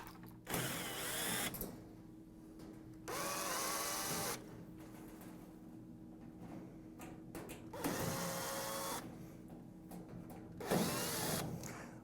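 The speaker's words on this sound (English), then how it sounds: "remove all the screws on the back panel" Power drill backing screws out of the rear panel of a Moffat Turbofan oven during servicing: several separate whirring bursts of a few seconds each, close and fairly loud, with quiet pauses between them.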